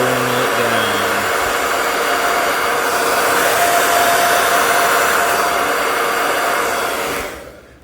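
Heat gun or hair dryer on its cool setting aimed at a plastic NECA Spider Gremlin figure, a loud, steady blowing roar up close for several seconds before it cuts off at the end.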